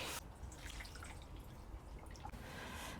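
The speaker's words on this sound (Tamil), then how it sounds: "இப்போ நான் வடிகட்டிடுறேன்" Homemade instant ginger wine is poured through a strainer, and the liquid trickles and drips in a steady, soft wash that runs the whole time, with no voices.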